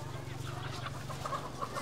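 Chickens cluck at a Lao market where live birds are sold, a steady busy bed of clucks and scattered calls with low market hum underneath, close and continuous.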